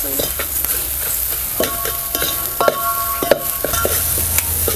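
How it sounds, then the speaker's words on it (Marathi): Spice masala stir-fried in a pan for Rajasthani dal, a loud, steady sizzle with repeated spatula scrapes and clinks against the metal, close and without talk. "आता चांगलंच आपल्याला हे मसाला परतून घ्यायचा"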